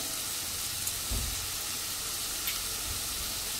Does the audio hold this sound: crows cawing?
no